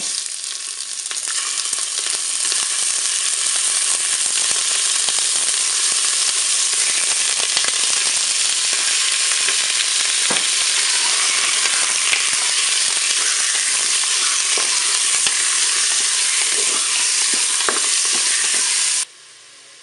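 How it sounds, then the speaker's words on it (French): Slices of filet mignon browning in a Cookeo multicooker give a loud, continuous close sizzle with scattered crackles and stirring, running unbroken and then cutting off abruptly at the end, with nobody speaking. "Je vais faire dorer maintenant mes tranches de filet mignon."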